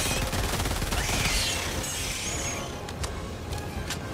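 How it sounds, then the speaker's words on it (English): Bursts of rapid gunfire from a rocket turret in a video game fight, loud and dense at first, then thinning into scattered sharp shots, with no voices present. "Careful, that rocket may fire back at you."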